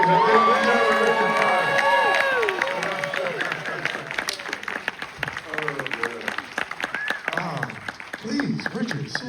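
An audience at a Q&A event with the hosts about the Pole to Pole adventure series applauds and cheers loudly and steadily, with shouts and voices mixed into the clapping before it thins into scattered claps.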